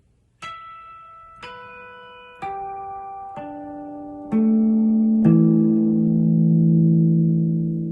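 Six bell-like guitar harmonics are plucked one after another, each ringing out, the last notes sustaining and slowly fading.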